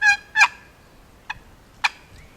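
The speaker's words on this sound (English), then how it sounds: "this is a higher pitched call, and it has that rasp to it, which will get to a gobbler also" A Peter Accardi box-style turkey call played nearby, giving a few high-pitched, raspy yelps in short, uneven bursts separated by quiet gaps.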